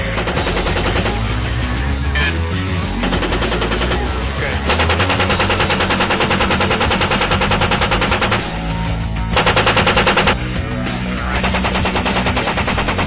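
An Apache helicopter's gun fires on insurgents in long, rapid, continuous bursts that sound loud and harsh, with radio-style voices faintly underneath.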